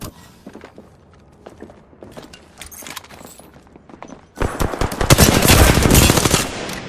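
Apex Legends gunfire: faint scattered shots and clatter at first, then a sudden loud, sustained burst of rapid automatic fire close up that fills the rest of the moment.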